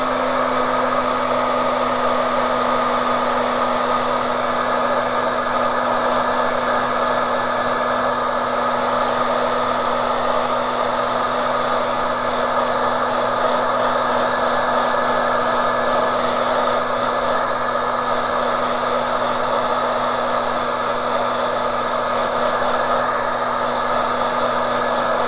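A hair dryer blows steadily and loudly the whole time, drying paper coated with hairspray for translucent paper. The drone is close and constant, with no talk over it.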